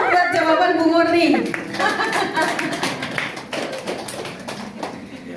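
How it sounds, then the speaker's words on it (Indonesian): A church congregation breaks into clapping during a Sunday service. A voice speaks briefly at the start, then scattered, rhythmic claps continue beneath light chatter and a few chuckles. "tepuk tangan dulu buat jawaban Bu Murni."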